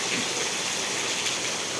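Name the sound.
heavy rain falling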